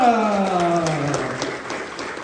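A comedy show audience in Antwerp applauds a comedian while a sustained tonal sound falls in pitch at the start, then the clapping continues as a broad, even wash with cheering mixed in.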